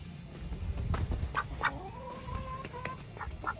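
A pet duck quacks several times close by, in short repeated calls over rustling and low background noise.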